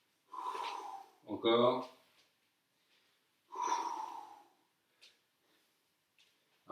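Sharp breaths push out during a core strengthening exercise, heard as two strong exhalations with a gasping intake between them. A voice coaches in French between the breaths.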